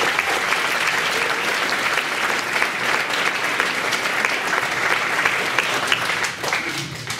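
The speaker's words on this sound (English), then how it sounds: "Let's give them another round of applause" An audience at a school production of Mary Poppins applauds in a loud, sustained burst of dense clapping that carries on without a break, then eases slightly near the end.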